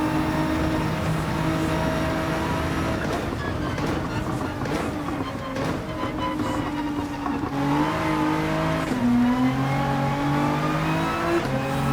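Car engine in the Gran Turismo 7 racing game, revving and accelerating steadily with rising and shifting engine tones through gear changes, loud and continuous with no talk.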